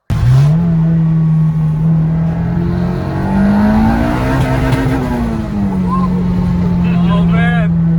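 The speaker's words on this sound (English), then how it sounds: "take it for a little test drive, test out the new wastegate and just see what it sounds like" A Honda Civic engine with a new wastegate runs on a test drive, loud and close, holding a steady drone that rises and falls as the car accelerates and eases off, with a brief chirp near the end.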